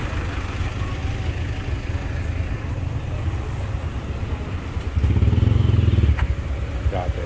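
Motorcycles and other vehicles board a RORO ferry at Liloan, Cebu, for the crossing to Sibulan, Negros Oriental: a steady engine rumble and clatter that swells louder near the end as a machine passes close.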